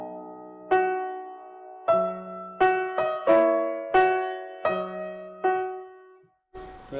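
A piano plays the oscillating octave from Chopin's Nocturne Op. 32 No. 1, high note first, as about eight clear struck notes ring out and decay one after another, near and unaccompanied.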